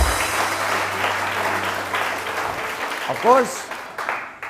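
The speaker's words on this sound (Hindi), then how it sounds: "बहुत सारी तालियां फरहाना अकरम साहिबा के लिए" Applause from a studio audience on a TV morning show rustles along underneath a host's speech, then fades out as talk continues.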